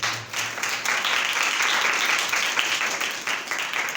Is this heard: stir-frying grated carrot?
no